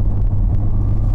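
Mitsubishi Lancer Evo 6 TME RS rally car engine droning steadily while driving, a deep continuous low rumble with a smooth, even loudness throughout and no voices.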